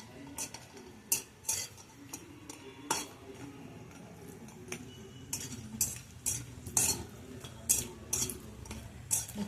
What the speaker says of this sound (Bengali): এবার বড়িগুলো আমি আগে ভেজে নেব, লাল করে বড়িগুলো ভেজে নেব।